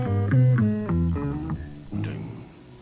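Closing bars of a dance track, shown as a quiz excerpt: bright harmonic melodic phrases with steady beat, ending abruptly and fading to a short tail, with no talking.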